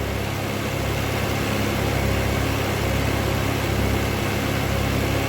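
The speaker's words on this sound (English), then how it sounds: "And that engine is hardly breathing at all." A Triumph Spitfire engine idles steadily and loudly just after electronic ignition has been fitted, running smoothly as it warms up on choke with an even, continuous drone throughout.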